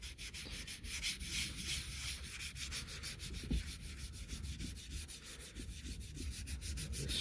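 Wet and dry sandpaper rubbing steadily over a cracked Ford rear diffuser, a continuous close-up scratchy rasp with quick back-and-forth strokes and no talking.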